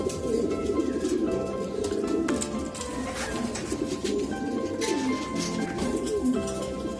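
A racing pigeon in good condition gives soft, repeated cooing calls, close and clear, over a background of other birds chirping and cooing around a loft, with no talking.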